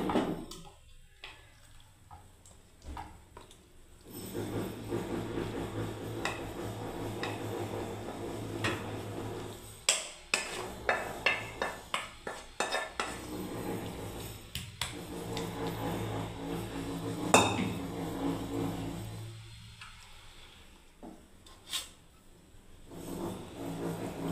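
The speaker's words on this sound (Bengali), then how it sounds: "এবারে দেখুন আমি ঢেলে দিচ্ছি সবজিটা সার্ভ করার জন্য" Mixed vegetable curry is spooned out of a pan into a serving dish, with irregular metal clinks and scrapes of the utensils, some quick runs of taps and softer shuffling between them. The sounds are close and fairly quiet, with no speech.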